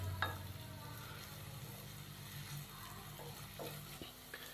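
Chopped onions fry in a hot pan with a steady, close sizzle, interrupted by a few scraping stirs of a utensil against the metal.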